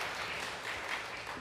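A congregation claps during a Sunday church worship service, a brief, faint burst of scattered applause heard from a distance.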